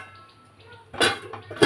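A lid clatters onto a metal cooking pot of boiling papaya and potatoes in a home kitchen, a short burst of clanking followed by a second sharp metallic knock.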